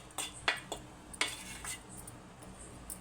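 A metal spoon scrapes and taps against a pan while roasted semiya vermicelli is stirred, giving a few bright clinks and clatters spaced irregularly, close and fairly quiet.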